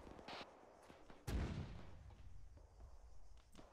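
A single heavy artillery gun shot in a video game, a sharp deep boom fading into a rumbling tail, with quieter background sounds before and after.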